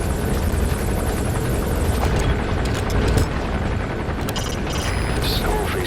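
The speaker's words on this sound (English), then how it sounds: "Skullface's chopper is there." In Metal Gear Solid V, Skullface's chopper drones loud and steady with a thick rotor rumble, mixed with scattered bursts like gunfire and booms in the game's battle noise.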